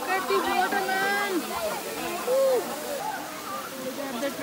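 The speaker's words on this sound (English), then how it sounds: "Waterfall that right there, going all the way down here," Bhagsunag waterfall in McLeod Ganj, Himachal Pradesh, a steady rushing wash of falling water heard from a moderate distance, with people talking over it throughout.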